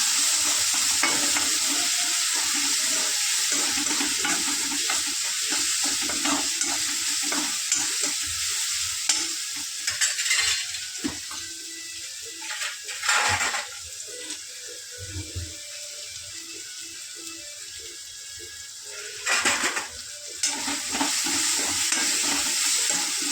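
Tomatoes sautéing in a pan for a cauliflower and capsicum sabzi, a continuous close sizzle with frequent spoon scrapes and stirring clatters throughout, no talking.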